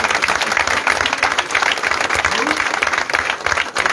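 Applause from a crowd at a tense public meeting where residents confront a zone director, steady clapping filling the whole stretch with voices mixed in.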